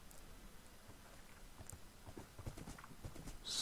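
Rhythmic clip-clop of Minecraft horse hooves trotting, steady and fairly close, with soft game ambience and a brief rise in noise near the end.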